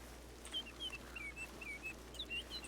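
A bird in a Western-era roleplay game setting gives a series of short, high chirping calls in quick, uneven bursts, faint over a steady low background hum.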